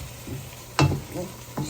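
Ground meat sizzling in a pan as a spoon stirs it in a few scraping strokes, a steady frying hiss under close, short bursts of stirring.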